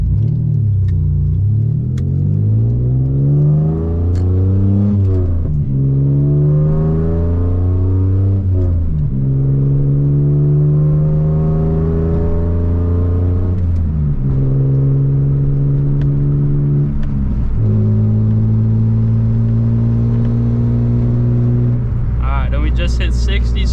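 A tuned Mitsubishi Eclipse pulls hard from a standstill to 60 mph on a public road, its engine climbing steadily through four or five gears with brief dips at each upshift. The drone is loud, close and inside the cabin, with no talk over it.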